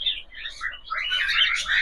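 A newly hatched Lotan pigeon chick gives thin, high chirps, close and fairly loud, in short bursts that grow into a denser run of peeps toward the end, with no talking.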